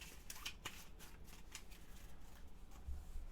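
Forbidden Island board game cards being shuffled on a table during a solo game, a soft continuous papery riffling with a few sharper flicks, close and fairly quiet, no talking.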